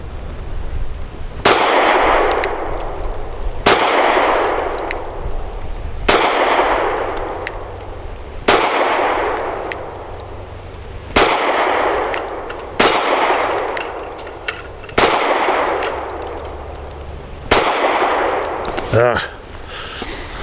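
Mossberg MC2sc compact pistol fired at a shooting range: eight sharp, loud shots spaced roughly two seconds apart, each a crisp crack with a brief ringing decay, followed by a faint metallic rattle at the end.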